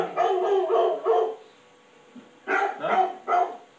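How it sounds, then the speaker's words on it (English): A dog barks in two close, loud bursts of several rapid barks each, separated by a short pause. "This is a dog."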